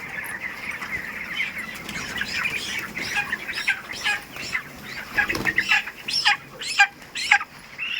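A flock of 25-day-old poultry chickens clucks and chatters inside an enclosed poultry farm shed, the calls growing busier and louder toward the end.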